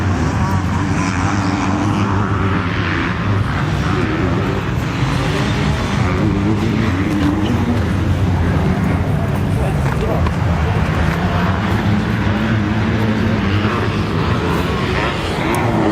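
A pack of 250cc motocross bikes in a junior lites race roars continuously through lap one, a loud sustained engine drone with a commentator talking over it throughout.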